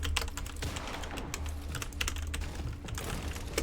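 Fast, continuous typing on a cheap computer keyboard, a dense stream of light plastic clacks at close range with a steady low hum underneath and no talking.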